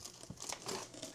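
Packaging material from a Creality K2 Plus 3D printer box crinkles and rustles as it is pulled away, a short close burst of crumpling with a faint tearing edge.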